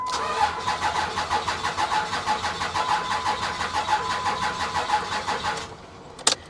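A Humvee engine cranks over and over on a booster pack in a rapid, rhythmic churning for several seconds without catching, then stops abruptly.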